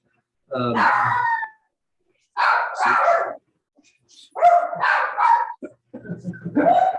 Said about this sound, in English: I was going to say, quit barking, Bill.